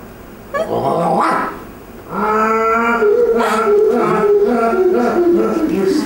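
A dog growls and barks loudly close by, a drawn-out rising growl breaking into a string of throaty, harmonic barks and whining yelps.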